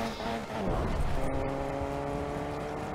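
A car in a Fortnite match hums along steadily with its engine pitch rising and falling, moderately close and not loud, with no one talking.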